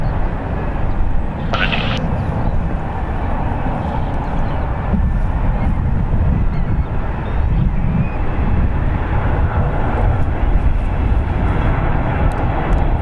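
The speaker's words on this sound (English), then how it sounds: "Will this 777 butter just like the rest of them?" A 26-year-old United Airlines Boeing 777-200ER lands at San Francisco International, a loud continuous engine roar with some wind buffeting on the microphone, steady with no talk.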